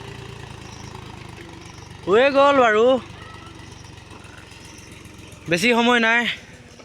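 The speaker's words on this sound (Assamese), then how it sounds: "ট্ৰেক্টৰ বাই আছে" A tractor engine runs steadily while ploughing a paddy field for sowing, a low continuous drone carrying through the whole stretch under two short bursts of talk.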